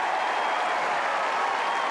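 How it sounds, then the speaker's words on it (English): Wimbledon tennis crowd applauding a match win, a dense, loud, continuous roar of clapping from all sides of the court with no break. "She takes the applause from all sides of the court now."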